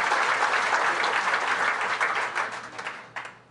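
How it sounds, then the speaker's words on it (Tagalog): Loud, dense audience applause at a government MOA signing ceremony for the Pantawid Pamilyang Pilipino Program, sustained clapping from a large crowd that tapers off near the end. "Ito, pakiusap ko na lakasan niyong palakpak."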